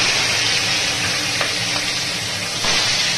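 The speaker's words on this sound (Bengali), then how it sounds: "এবারে আমি মাথাগুলো ভালো করে ভেজে নেব" Rohu fish heads fry in a pan with a dense, steady sizzle and hiss, close and constant throughout, without any talk.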